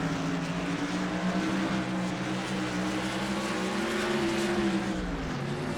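Onboard racing engine drone from a car in a racing video game, steady and loud with a rising and falling pitch as the car moves through a turn, continuous throughout with no talk.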